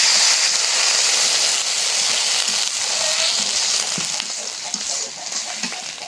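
Fried onion in a pan sizzles hard after a splash of water, a loud dense hiss that slowly settles, with faint stirring clicks and no talking.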